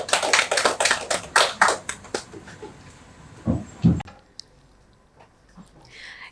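Applause from an audience at a corporate customer-service event in Mumbai, a dense burst of clapping for about two seconds that thins out and dies away, leaving a few low thuds and quiet room noise.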